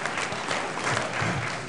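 Keynote audience at a general session breaks into steady, dense applause that fills the short stretch from start to end at an even, moderately loud level.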